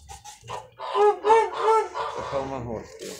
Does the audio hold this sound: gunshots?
no